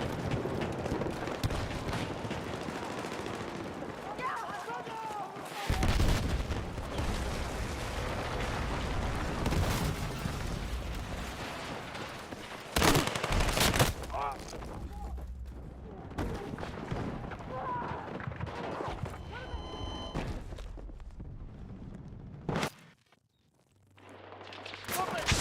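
Full-auto gunfire in Battlefield 6, loud sustained bursts and heavy battle noise throughout, with a brief lull near the end as the firing cuts out before resuming.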